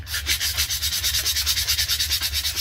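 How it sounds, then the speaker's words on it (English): Sandpaper rubbed rapidly back and forth over a double-sided slip, a close, rhythmic scratchy rasp of even strokes repeating several times per second without any voices. "So all you have to do to clean that up a little bit, take any sandpaper"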